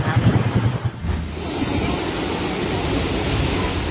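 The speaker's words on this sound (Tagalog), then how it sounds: "Malalakas na bugso ng hangin din ang naranasan sa Labo, Camarines Norte, bunsod ng Super Typhoon Uwan." Strong gusts of Super Typhoon Uwan roar in Labo, Camarines Norte, Philippines, buffeting the microphone in a loud, continuous rush with crashing waves beneath.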